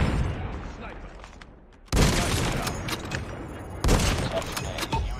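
Sniper rifle fire in the video game Call of Duty Ground War comes as two loud sharp blasts about two seconds apart, each followed by ringing decay, with quieter game noise between them.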